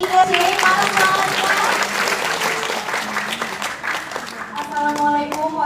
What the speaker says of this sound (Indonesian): boleh berikan tepuk tangan juga untuk semua sahabat CISJ